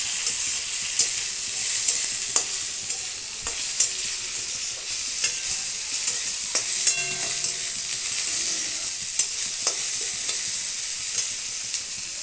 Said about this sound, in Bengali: টমেটোটা একটু ভালো করে নাড়তে হবে।